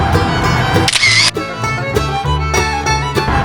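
A single-lens reflex camera shutter clicks several times in quick succession at a scenic stop in Taichung, Taiwan, during a cycling trip, the sharp snaps sitting close over background music.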